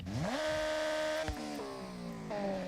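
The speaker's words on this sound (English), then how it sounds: "i4 motorbike engine." An inline-four motorbike engine fitted as a swap in a racing video game revs up from idle to a steady high-pitched wail, then dips and climbs again, loud and alone with no talk.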